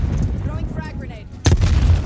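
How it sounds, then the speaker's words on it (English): A frag grenade in a military shooter game, thrown and then bursting into one sharp, loud blast partway through, with a rumbling tail over busy game background and faint voices. "Throwing frag grenade."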